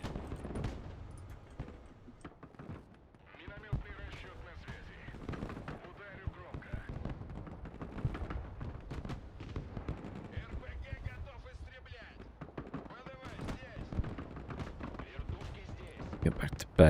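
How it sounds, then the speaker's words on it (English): Mortar and artillery fire in the war video game Broken Arrow, a dense run of sharp bangs and thuds with crackling gunfire throughout, moderately loud, with voices talking over parts of the battle. "Mortars going in on top of them, which is helpful."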